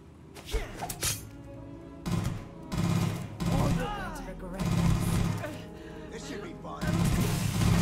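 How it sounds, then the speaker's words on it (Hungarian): Gunfire in the Starfield PC game rings out in repeated bursts and single shots with thuds and impacts, loud and close, mixed with in-game voices and a player talking. "Itt lehet, hogy lesz egy kis lövöldözés."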